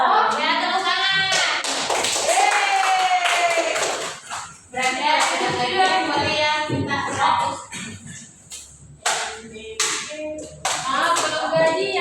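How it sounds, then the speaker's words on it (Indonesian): A classroom of students claps in scattered bursts of hand claps and taps mixed with shuffling, while a teacher speaks over much of it. "Ya, tepuk tangan."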